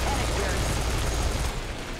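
Rapid bursts of video game gunfire from Serious Sam 4 rattle in a dense, continuous barrage, loud and close, with a rumbling low layer beneath.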